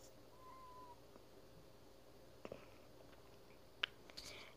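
A pregnant cat gives a single faint meow in a quiet indoor room, followed by a few soft clicks and knocks.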